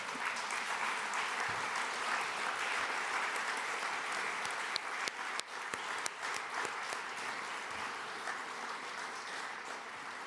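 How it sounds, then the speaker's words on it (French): Sustained audience applause fills a summit hall of the Francophonie in Djerba, Tunisia, a dense steady roar of clapping lasting the full ten seconds with a few sharper claps standing out near the middle. "Ça mérite quelques applaudissements."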